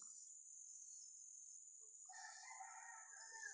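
A red junglefowl rooster crows at a distance partway through, layered over a constant high buzz of insects.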